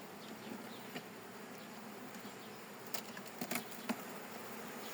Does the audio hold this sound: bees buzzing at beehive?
yes